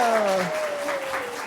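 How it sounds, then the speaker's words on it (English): Applause from a courtroom crowd gathered for an adoption-day ceremony, a close, even wash of many hands clapping. Faint tonal voices linger beneath it. "let's all clap and be happy about it"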